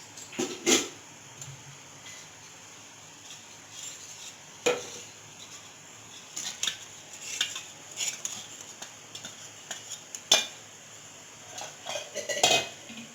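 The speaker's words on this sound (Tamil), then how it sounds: "கட்டிகள் இல்லாமல் நல்லா கலந்து விட்டுக்கிறேன்." A utensil stirs ragi flour into cooked rice porridge in a pot, giving scattered scraping and clinking knocks against the pot over a quiet background, close and fairly faint.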